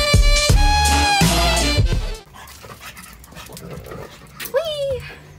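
French bulldogs pant and whimper close by, giving heavy rhythmic breaths at first and then a rising whine near the end, with a person talking over part of it.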